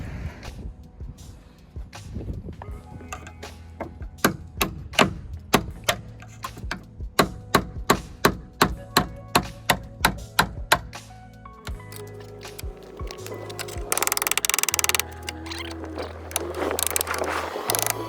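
A very blunt chisel chipping at fiberglass on an old 1963 custom project: a fast series of sharp, close ticking knocks in an irregular rhythm, then scraping and rasping toward the end, no talking.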